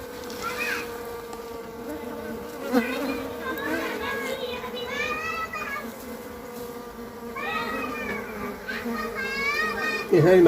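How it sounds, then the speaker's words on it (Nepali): Asian honey bees (Apis cerana) buzzing around a hive, a busy droning hum with rising and falling buzzes of passing bees, accompanied by faint background talk. "हेर्नुहोस् मौरीले त्यो घार छोड्दैछ"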